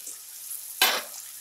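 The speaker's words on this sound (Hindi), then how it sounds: "अब हम इसी के साथ ये कटा हुआ आलू भी भूनेंगे" Chopped potato pieces tossed into a hot pan set off a single sudden sizzling hiss that fades within a fraction of a second.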